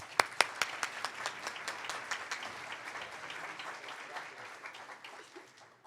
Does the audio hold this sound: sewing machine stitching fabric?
no